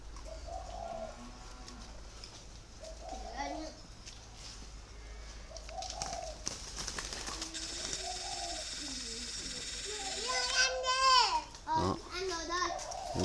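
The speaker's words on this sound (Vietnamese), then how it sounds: "Giống chim này gọi là giống chim mơ, hoa mơ." Young doves of the hoa mơ breed, with white spots on the head, give soft repeated coos at close range beneath a man's speech, while children's voices and rustling rise near the end.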